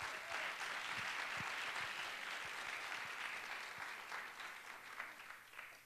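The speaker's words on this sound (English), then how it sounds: "Let's have one final round of applause for all of those teams." Sustained audience applause for the teams at a quick pitch competition, a dense steady wash of clapping that holds level and slowly thins toward the end, with no talking over it.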